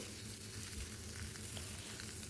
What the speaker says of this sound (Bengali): এবার কেটে ধুয়ে জল সরানো ভেন্ডিগুলোকে ভেজে নেব